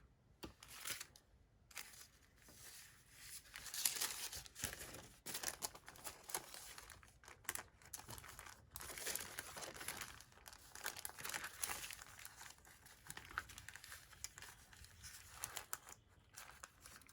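Tape being handled and pressed onto a junk journal page, a soft, continuous crinkling and rustling of paper and tape at close range for the whole stretch, with no talk.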